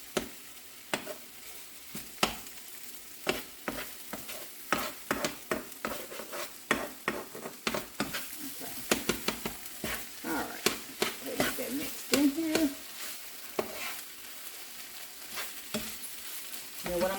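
Vegan Just Egg scrambles in a pan with a low, continuous sizzle and a long series of quick tapping and scraping spatula strokes, faint and close, with a little talk now and then.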